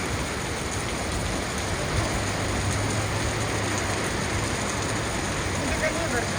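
Heavy rain pours down in Bahrain in a dense, unbroken hiss that stays steady throughout, with faint voices murmuring somewhere beneath it.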